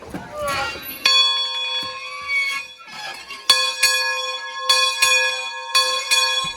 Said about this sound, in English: After a while, the second bell rang.